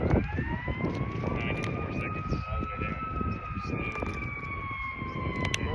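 Fire truck sirens wail in long, gliding tones passing on the street, loud and close over rumbling engines and traffic, while a person talks nearby.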